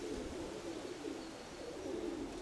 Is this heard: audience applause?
no